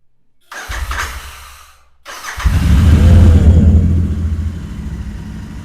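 A second-hand 2022 motorcycle cranks briefly, stops, then fires up and revs into a loud, close rumble that settles back toward a steady idle.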